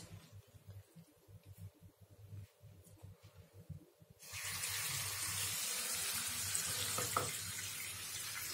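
Water runs from a tap into a sink where socks are washed with dishwashing liquid, first a soft sloshing and splashing, then a steady, louder gush of filling water that continues to the end.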